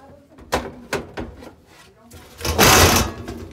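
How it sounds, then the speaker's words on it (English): The top panel of a Kenmore washer is lifted, a few knocks and clunks followed by a louder scraping rattle, up close with a voice speaking. "the whole panel lifts up"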